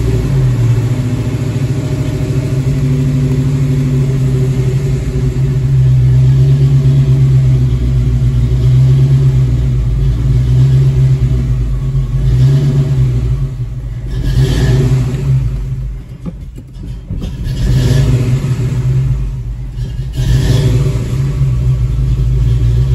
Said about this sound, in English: So now I'm going to give it some gas after it starts to help keep it running.